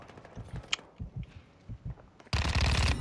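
Modern Warfare 2 gunfire bursts in loud and close near the end, following a stretch of scattered faint footsteps and thuds.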